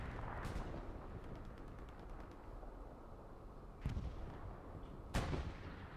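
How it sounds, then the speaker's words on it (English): Rocket strikes in the video game Hell Let Loose on the Carentan map, distant rumbling battle noise punctuated by two sharp, loud impacts near the end. "Rocket snipes coming in."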